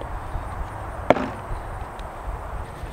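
A Daisy Marksman wrist rocket slingshot fires once, giving a single sharp, close snap against faint background hiss, with no talk.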